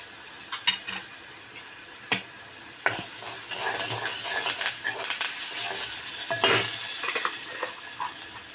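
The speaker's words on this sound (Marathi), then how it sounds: "हा मसाला आता मी इथे ॲड करत आहे तो चांगला याचा परतून घेणार आहोत" Ground spice paste with turmeric, garam masala and Kashmiri red chilli sizzles steadily in a pan for an onion bhaji curry, with scraping stirs and occasional clinks of a spoon against the pan.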